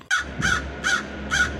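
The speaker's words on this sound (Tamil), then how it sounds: "ஏய் காக்கா, நான் சொல்லிக்கிட்டே இருக்கிறேன், நீ நான் பேசுறத டிஸ்டர்ப் பண்ணிட்டே இருக்கியா?" A cartoon crow gives four loud, evenly spaced caws, each harsh and clipped, over a low background hum.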